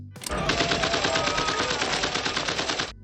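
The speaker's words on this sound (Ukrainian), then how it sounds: "звуки відбійного молотка та інших будівельних інструментів які змішувалися з пострілами та вибухами" Dense, continuous rapid gunfire rattles nonstop for about three seconds, loud and close, from the Apocalypse Now film soundtrack battle scene.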